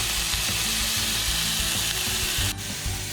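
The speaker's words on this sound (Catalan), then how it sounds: "ara fem el rap a la planxa" Monkfish searing on a griddle with a continuous, fairly close sizzle and a faint low hum underneath, alone with no talking.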